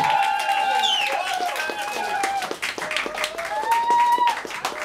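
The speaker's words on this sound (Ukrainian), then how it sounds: "ваші аплодисменти" Audience applauding the winner of the first West Ukrainian poetry battle in Ivano-Frankivsk, dense clapping across the whole stretch with a raised voice and cheering layered over it.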